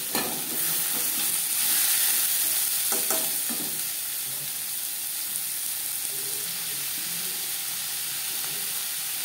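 Onions and tomatoes fry in hot oil in a pan, giving a steady, close hiss with a few louder bursts early on and no talking.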